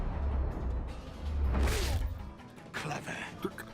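A bone-shattering punch lands in the Batman The Enemy Within video game, one loud crunching impact midway over a low rumbling game soundtrack, followed by lighter clattering thumps.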